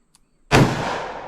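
A .357 Magnum snub-nose revolver fires a 158-grain lead semi-wadcutter handload during a chronograph test: one loud, sharp close report with a brief reverberant tail, preceded by a faint click.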